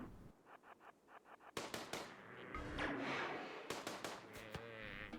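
SMG gunfire during a mega sloth hunt in RimWorld: short, quiet, evenly spaced bursts of small pops, followed by louder clustered shots mixed with animal and combat noise.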